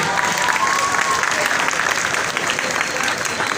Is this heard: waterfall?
no